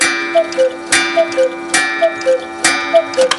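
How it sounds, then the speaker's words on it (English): Clockwork inside a handcrafted cuckoo clock ticks in a steady, even tick-tock rhythm, close and clear, with two alternating tones repeating about every half second. "Clockwork brings the cuckoo clock to life."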